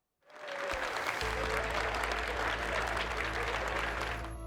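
A large crowd in Nuuk claps and cheers to welcome Denmark's King Frederick X and Queen Mary, the applause starting suddenly and holding as a dense, steady, loud roar throughout.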